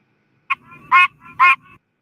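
Pine barrens tree frogs calling with quacking, honk-like notes, like a goose: three loud, close calls, a short one followed by two longer ones, with a faint low chatter between them.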